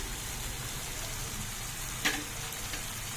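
Garlic and chili pieces fry in a pan for Bombay chutney, giving a steady soft sizzle close by, with one brief clink partway through and no voices.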